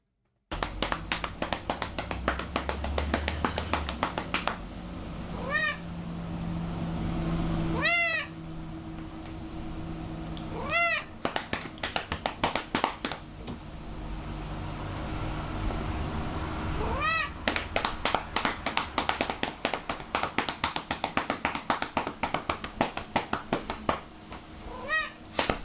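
Pet cat meowing repeatedly while being patted on the rump indoors, a series of rising meows spaced across the scene over a steady run of quick soft slapping pats, close and fairly quiet.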